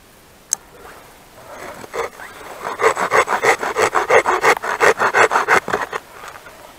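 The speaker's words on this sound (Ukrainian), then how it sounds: "По пилянню, ну це нагадує більш-менш нормальну садову пилку" The saw on a Vovkulaka field tool, similar to a garden saw, cuts through a small branch: a lone tap, then about a dozen steady back-and-forth rasping strokes building into a quick, even rhythm, close and loud.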